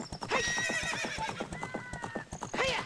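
A horse in Zelda: Ocarina of Time whinnies loudly after being whipped, its high neighs riding over quick clip-clop hoofbeats at a gallop, ending with another sharp whinny.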